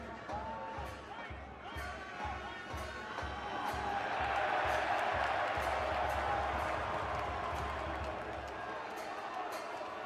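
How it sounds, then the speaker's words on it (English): NC State fans roar in a large stadium crowd at a men's college soccer final, a broad sustained cheer that swells midway and holds steady under ongoing commentary. "you heard the big NC State cheer just then"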